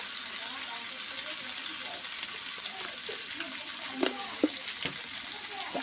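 Katla fish pieces frying in an oiled pan for a fish curry with green banana, giving a steady close sizzle with a few sharp clinks and scrapes of stirring near the end.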